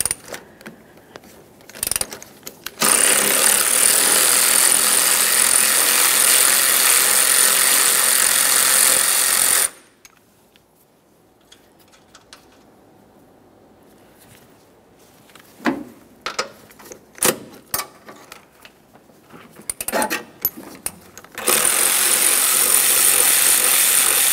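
A power tool removes 14mm strut nuts on a 2011-2020 Toyota Sienna 3.5L V6. Two long loud whirring bursts are separated by a quiet stretch of small clicks and metallic taps.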